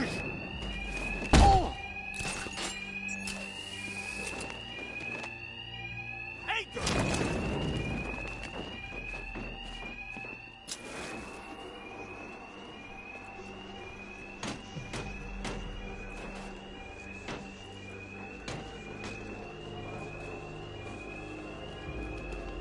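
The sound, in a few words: alarm ringing in Batman video game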